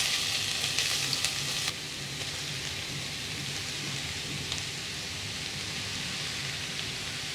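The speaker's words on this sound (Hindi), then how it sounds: "हाई फ्लेम पर हम गाजर को चलाते हुए फ्राई करेंगे कम से कम 5 मिनट तक।" Grated carrots fry in pure ghee on a high flame, giving a steady, dense, close sizzle that runs throughout, louder at first and then settling to an even hiss, with no talking.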